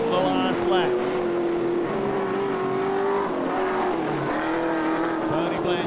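Race cars roar around Lismore Speedway on the final lap of an AMCA Nationals A-Main, a loud continuous engine drone with shifting pitch as cars pass, under a race commentator's voice.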